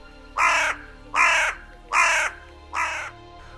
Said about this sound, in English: I saw the blackest of crows perched in a tree above me